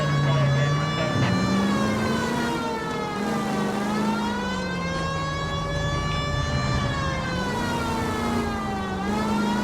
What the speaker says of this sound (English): You don't like the siren, dude?